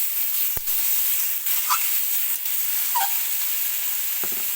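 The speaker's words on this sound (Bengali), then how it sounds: "আলু আর ঝিঙেটাকে ভালো করে পেঁয়াজের সঙ্গে ভাজা ভাজা করে নিচ্ছি" Potatoes and ridge gourd fry with onions in a pan, giving a constant close hiss and sizzle. A few light clinks from stirring come through now and then.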